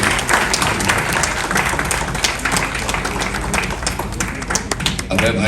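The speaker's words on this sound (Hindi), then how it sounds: "आप लोग की तालियां सबको प्रोत्साहन देंगी।" Audience applause at an event where a road is inaugurated in honour of actor Vikram Gokhale, dense, sustained clapping filling the whole stretch at steady loudness, with a brief shift near the end.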